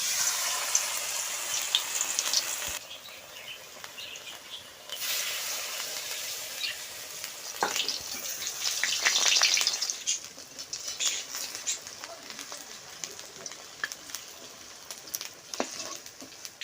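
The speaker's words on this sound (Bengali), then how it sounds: "শাকের চপটা দিয়ে দেবো কড়াইতে।" Greens fritters (shaak chop) in a besan batter with turmeric and cumin frying in mustard oil in a kadai: a steady, close sizzling hiss with scattered crackles and pops that swells and fades. No voices.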